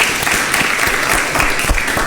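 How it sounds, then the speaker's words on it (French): Audience applause for students at a midday live event with a business school, a dense, steady wash of clapping hands filling the room throughout. "Merci de vous applaudir."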